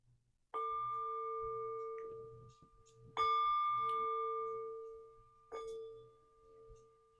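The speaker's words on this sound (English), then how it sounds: "I'm just going to ring the bell to clear the energy" A bell is struck three times to clear the energy, each strike a clear ringing tone that lingers and slowly fades, the third softer and shorter, with faint background noise between.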